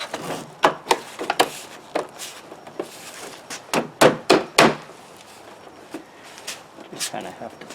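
A plastic part of a Hoover upright vacuum being tapped into place: irregular clusters of close, dull knocks and thumps, loudest in a quick run near the middle, mixed with a voice talking.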